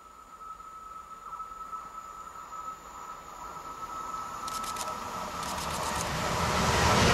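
A Pendolino train approaches on the line near Mszczonów, starting as a faint steady hum with a high tonal whine. The rumble grows gradually louder toward the end, and bright clicking bursts sound as the train nears.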